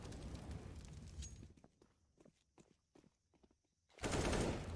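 Automatic gunfire and footsteps sound in a Counter-Strike match, with a dense burst of rapid shots at the start, a quieter run of scattered cracks and steps, then another loud barrage at the end.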